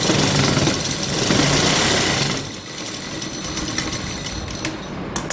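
A sewing machine stitches a seam on a buttoned sleeve, its loud, continuous mechanical whir running for a couple of seconds before dropping to a lower, uneven hum.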